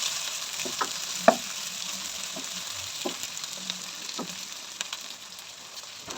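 Chopped tomatoes and green chillies stirred into onions frying in a pan, with a steady broadband sizzle and a few scattered scrapes and clinks of the spoon, one sharper knock early on, close and moderately loud with no talking.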